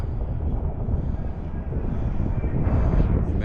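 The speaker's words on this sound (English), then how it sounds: "That's a Black Hawk helicopter." A Black Hawk helicopter's heavy engine rumble drones nearby, steady and loud, swelling slightly toward the end.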